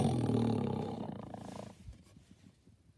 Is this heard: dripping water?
no